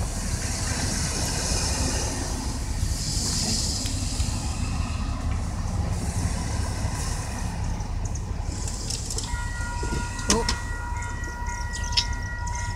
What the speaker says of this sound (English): I saw the train from the distance.